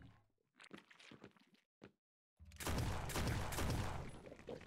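Grenade blasts in the video game Lovecraft's Untold Stories: scattered sharp game sound effects give way to a loud, dense, sustained burst of explosive noise.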